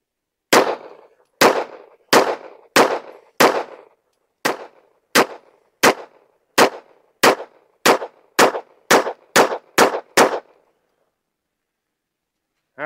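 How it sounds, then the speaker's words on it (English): A Taurus G3 Tactical pistol fires about sixteen sharp, loud shots at a target in a fairly even rhythm, each crack ringing out before the next, then silence. "Let's just see if it runs all 17 rounds through each magazine."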